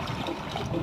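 Water pours into a cooking pot for bagara rice, a steady close gushing trickle with no voices.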